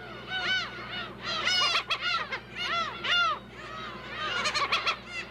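Black-tailed gulls calling on Dokdo island, a dense overlapping chorus of nasal, mewing cries from a colony, some near and some farther off, with no voices present.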